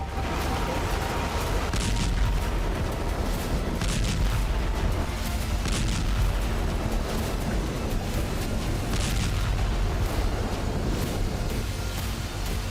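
Russian artillery bombardment in Ukraine: a dense run of heavy booms and sharp blasts, several distinct cracks spaced a second or two apart over a rumbling, noisy background, fairly loud and without speech.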